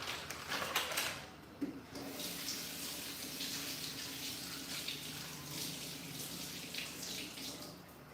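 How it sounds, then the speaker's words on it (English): Sausages rinsed under a running kitchen tap, with a steady close gush of water splashing throughout and a brief knock near the start, and no voices. "I like to rinse my sausage when I take it out of the pack."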